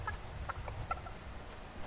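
Chickens in a Fortnite game give a few short, quiet clucks over a low background rumble, with no talking.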